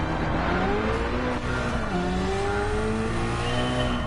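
Race car engine in Gran Turismo 7 climbing through gears in a continuous loud, close whine with steady rising pitch sweeps and a shift near the middle.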